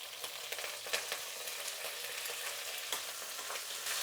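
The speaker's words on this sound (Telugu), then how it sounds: "ఇప్పుడు ఎర్రగడ్డలు వేసుకుందాం, కరివేపాకు వేసుకుందాం." Onions and curry leaves sizzle steadily in a hot pan of oil for sambar, a continuous bright frying hiss with a few sharper crackles, close and alone.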